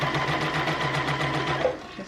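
A sewing machine backstitching a seam on a shirred top, a steady fast mechanical whir of stitching close by that stops near the end, with no talk.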